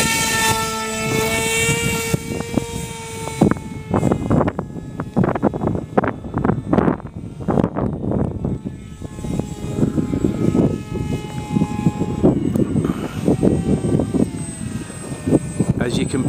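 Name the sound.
RC model airplane Night Rider flying at night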